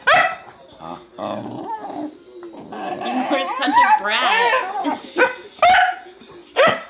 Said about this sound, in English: No barking, just talking.